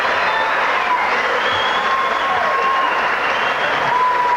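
A full-house crowd at the Showboat applauds and cheers during a Milton McCrory versus Doug Dewitt boxing bout, producing steady, dense, loud clapping with a few whistles throughout.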